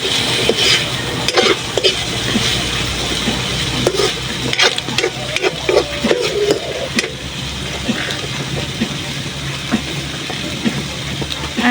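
Sautéed potatoes with a pinch of salt are stirred in a hot pan, giving a continuous close sizzle broken by frequent sharp scrapes and clacks of the utensil against the pan.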